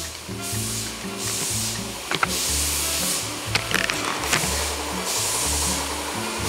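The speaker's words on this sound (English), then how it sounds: "We got part timer in there learning how to use a spray gun." A spray gun applies automotive paint to car door jambs in a two-tone refinishing job, giving repeated bursts of steady hissing spray over a low mechanical hum, with a few sharp knocks between passes.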